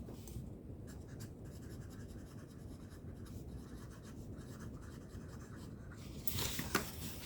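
A pen writing on paper while a maths exercise is worked out, a faint continuous scratchy rub that rises to a slightly louder scrape near the end.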